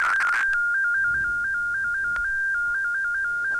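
A small modem transmits data at 10 baud, warbling steadily between 1200 and 2200 Hz tones in a quick, even stepping rhythm, clear and alone after a brief noisy start.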